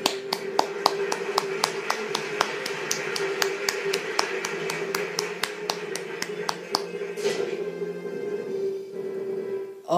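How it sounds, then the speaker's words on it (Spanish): Cartoon-style applause from a Kirby Super Star animation. Evenly spaced, crisp clap hits repeat in a steady rhythm over a sustained tonal hum, then stop near the end. "Aplausos."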